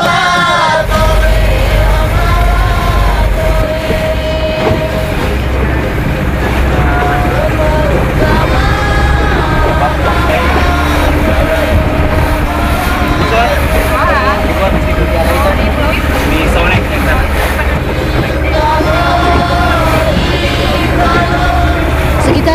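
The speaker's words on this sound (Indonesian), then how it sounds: "kami dijemput petugas resort tempat kami menginap dan melanjutkan perjalanan dengan perahu motor" Motorboat ride across open water in Raja Ampat, Papua, a loud, constant engine drone with rushing water and wind, close and unbroken, with faint voices in the background.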